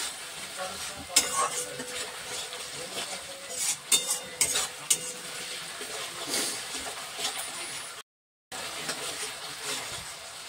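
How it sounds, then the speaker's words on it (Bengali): Tomato paste sautéing in a pan for Bengali dhoka curry, a steady close sizzle with repeated scraping stirs and clinks of a spoon against the pan, with a brief drop to silence near the end. "টমেটো বাটাটা দিয়ে দিলাম। ভালো করে একটু কষে নিতে হবে।"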